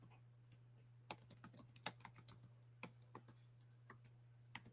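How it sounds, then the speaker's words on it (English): Fast, irregular keystrokes on a computer keyboard in bursts of crisp clicks with short pauses, close and clear over a steady low hum, with no talking. "I'm typing it in now."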